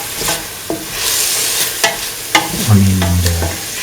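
Mint, onion and shallots frying in a pan while being stirred, a close, steady sizzle with repeated spatula scrapes and knocks, then a short low hum near the end.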